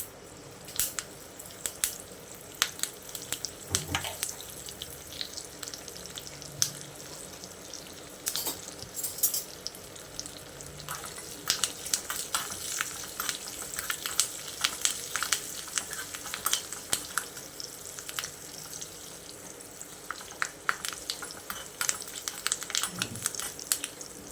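Crackling, spattering sizzle of mustard seeds, asafoetida and curry leaves tempering in hot oil, continuous with sharp pops and occasional utensil clinks, close up.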